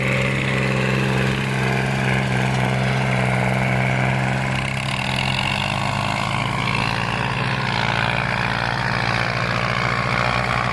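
A Ford 6610 diesel tractor engine, worn and loose, runs steadily up close while ploughing a field, a low rumbling throb that holds constant throughout with no talking.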